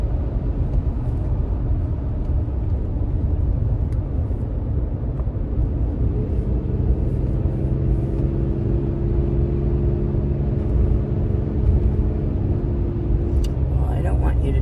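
A car engine with a hole in its muffler gives a loud, steady low rumble that drones on throughout, with a harsher throaty tone building partway in.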